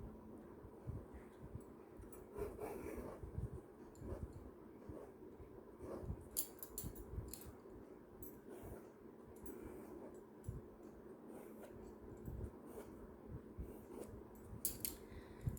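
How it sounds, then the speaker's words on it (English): Scissors cut a circle out of a sheet of paper, giving faint, close snips in irregular bursts across a quiet room. "I am going to cut a circular shape from this sheet of paper"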